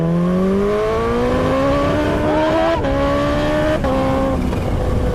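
A loud Kawasaki Ninja H2 sport motorcycle engine revs up hard in second gear, pitch climbing steadily with brief shifts, close and sustained.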